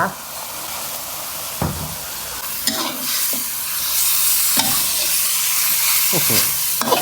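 Papaya being stir-fried with pork belly in a spicy red curry: a steady close sizzle with repeated scraping and clacking of a spatula against the pan at irregular intervals, with a few short spoken words.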